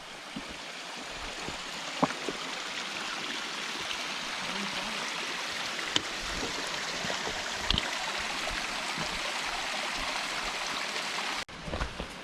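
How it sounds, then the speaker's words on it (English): A small creek flows at a trail crossing on the Pinhoti Trail, a steady broadband rush and babble of water close by that fills the scene, with only a few faint knocks and no talking. "Very nice little creek crossing here."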